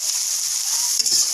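Soybean chunks fry with egg in a hot pan, giving a loud, bright, continuous sizzle with a slight stirring scrape near the end.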